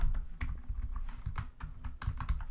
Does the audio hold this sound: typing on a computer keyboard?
yes